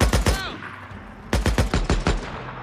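Loud bursts of gunfire in a Days Gone shootout during an ambush at Bear Creek Hot Springs: a cluster of rapid shots, a short lull, then a longer run of repeated close, sharp reports.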